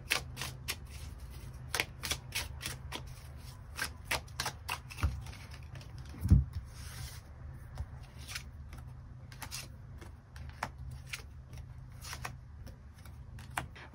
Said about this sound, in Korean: 추가 카드로 앞으로 나에게 등장하는 이 운명적인 인연의 특징과 시기적인 부분 우리가 언제쯤 만나게 될지 추가 카드 뽑아보도록 하겠습니다